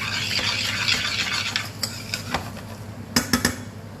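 Rice toasting in a pan for seafood risotto, stirred with a spoon: a soft dry sizzle and hiss throughout, punctuated by several sharp scrapes and clinks of the utensil against the pan, louder toward the end, close up with no talking.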